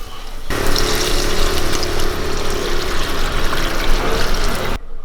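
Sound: water poured into biryani masala in pot

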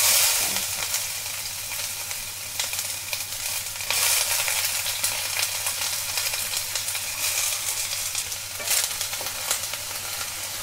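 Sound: onion frying in hot oil in a kadhai

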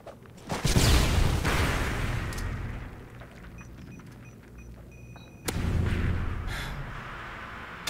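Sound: flashbang grenade going off in video game Modern Warfare 2

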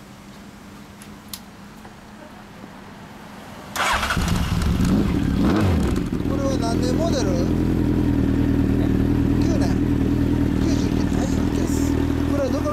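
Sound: motorcycle engine with aftermarket exhaust

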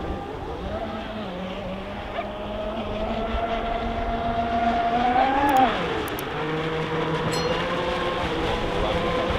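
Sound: Mystic 5000 RC offshore boat running at speed

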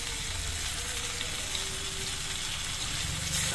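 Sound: potatoes and eggplant frying with ground spice paste

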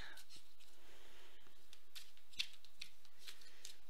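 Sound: shuffling tarot cards

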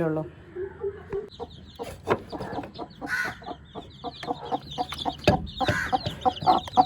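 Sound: hens and roosters clucking

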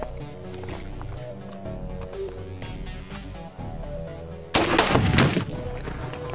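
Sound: AK-47 rifle firing

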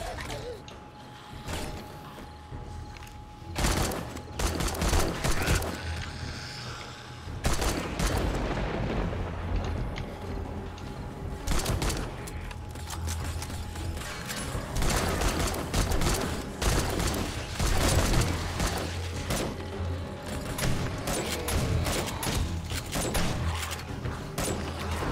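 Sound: gunfire in a video game

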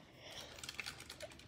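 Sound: typing on Ducky One 2 Mini keyboard with red switches

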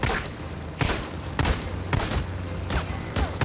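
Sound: gunfire in the video game Days Gone

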